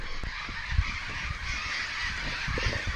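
Colourful tropical birds near a lakeside shade spot keep up a continuous harsh honking chorus, many calls overlapping at moderate distance without pause.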